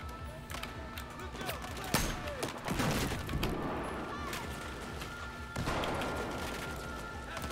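Battlefield 4 combat with a grenade launcher firing among other gunfire: sharp bursts and crashing impacts scatter over a steady battle din, with a loud crack near two seconds and dense clatter throughout.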